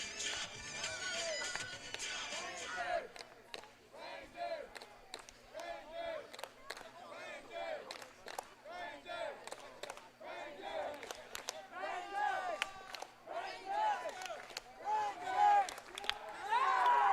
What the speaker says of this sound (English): this is probably the most I've seen the crowd be involved here, making a lot of noise to start off this second half